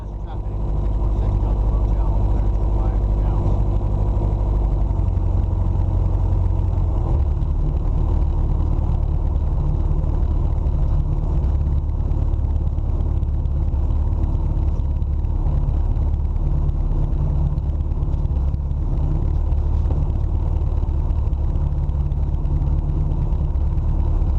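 A small airplane taxis into the FBO at The Dalles, its engine a loud, steady droning rumble that holds throughout.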